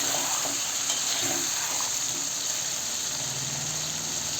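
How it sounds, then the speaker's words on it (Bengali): Meat sizzles and is stirred in a frying pan, a continuous hiss with soft scraping and clinking from the stirring, moderately loud and steady throughout. "দিয়ে দিলাম মাংসটা দিয়ে একটু নাড়াচাড়া করতেছি নাড়াচাড়া করছি আর কি"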